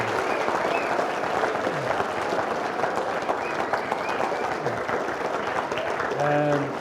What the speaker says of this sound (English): I want to have a nice round of applause for our special guest.